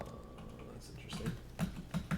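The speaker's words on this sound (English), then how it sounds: "Is my spacebar broken?" A computer keyboard spacebar pressed several times, soft clicks and taps close by, faint under background noise.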